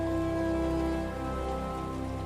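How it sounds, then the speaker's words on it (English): Rain falling in Final Fantasy XIV, a steady hiss of drops spattering on surfaces under a low tonal background hum, even and unbroken throughout. "It is raining."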